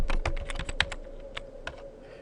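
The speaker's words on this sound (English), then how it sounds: "I'm now ready to type in my month names" Quick clicks from a computer keyboard, with several keystrokes close together, as someone types month names into an Excel 2010 spreadsheet. The clicks are crisp and close, then thin out over a faint background hum.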